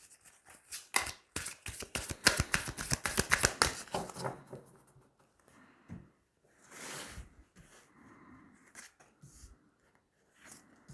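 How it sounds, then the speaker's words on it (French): Oracle cards shuffled by hand for a card reading: a quick burst of rapid riffling and flicking, then a few sparse, softer card slides and taps close by. "Allez, on va tirer 9 cartes."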